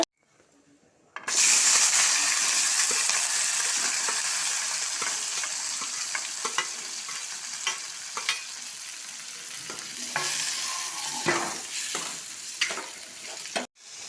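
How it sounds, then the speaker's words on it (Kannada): Cumin seeds crackling and sizzling in hot oil for lemon pickle, a loud steady frying hiss with scattered pops and stirring clicks, close up, fading slightly toward the end. "ಈಗ ಎಣ್ಣೆ ಹಾಕೊಂಡಿನ್ರಿ ಜೀರಿಗೆ ಹಾಕ್ಕೊಳತ್ತೀನಿ ನೋಡ್ರಿ ಜೀರಿಗೆ ಎಲ್ಲ ಚಟಪಟ ಆದ್ಮೇಲೆ"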